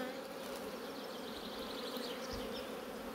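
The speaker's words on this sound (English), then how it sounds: "Even more bees down there." Honey bees hum and buzz densely inside a working beehive over honey supers and brood, a close, continuous drone with no talking.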